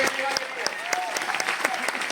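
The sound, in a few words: audience applause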